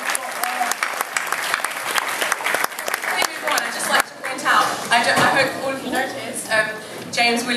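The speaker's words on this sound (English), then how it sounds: "round of applause for Mr." A live audience claps steadily at a guitar event, with dense applause and a few scattered cheers filling the whole stretch at close range.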